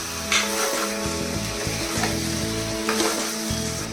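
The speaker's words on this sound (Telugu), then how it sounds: "ముందుగా రెడీ చేసుకున్న మటన్ని వేసుకొని అంతా కలిసేలాగా కలిపి హై ఫ్లేమ్లో ఒక 10 minutes ఫ్రై చేసుకోవాలి." Mutton pieces fry on high flame in an Andhra-style curry pan, giving a steady close sizzle with scraping stirs and a few louder clatters, no voices.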